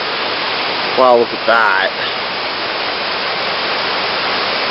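Floodwater on a flooded Ridley Creek rushes in a loud, steady roar that fills the whole scene without a break, with someone briefly speaking over it.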